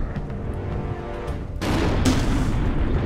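A big explosion in the fantasy strategy game Overlord, a deep booming blast that erupts after a low rumbling build-up and roars on loudly to the end of the clip.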